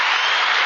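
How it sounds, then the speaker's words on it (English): A short, dense burst of applause from a studio audience, a steady wash of many hands clapping together with no gaps, alone and fairly loud. "Thanks for the applause."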